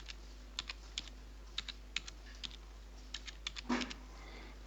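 Someone types a single word on a computer keyboard, a quiet run of about a dozen separate clicking keystrokes at an uneven pace, with a slightly louder cluster of key presses near the end and no talking.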